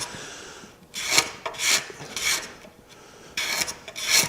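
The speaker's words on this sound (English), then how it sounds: "Just a little sandpaper. That does the trick." Wood being sanded by hand with sandpaper during sculptural woodworking, heard as five loud, raspy back-and-forth strokes in an uneven rhythm, each a short burst with brief quiet gaps between them, close up and with no talking.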